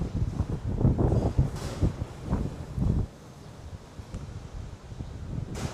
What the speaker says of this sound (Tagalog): lakas naman ng hangin na yun